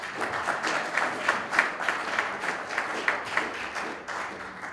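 A crowd at a Nigerian UK property show applauds a speaker, a warm, steady burst of many hands clapping that fades slightly toward the end, with no one talking over it.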